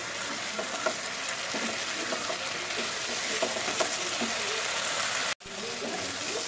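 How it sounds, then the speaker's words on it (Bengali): Chicken kosha being stir-fried in a pan with stock added a little at a time, giving a steady close sizzle with scraping stirs throughout and a brief dropout near the end. "সেই জলটা আমি অল্প অল্প করে দিয়ে দিয়ে কষাচ্ছি"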